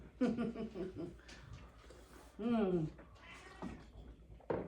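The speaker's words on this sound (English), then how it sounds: "We have a cat crying in the background." A cat meows and wails repeatedly nearby, drawn-out cries mixed with people talking in the room.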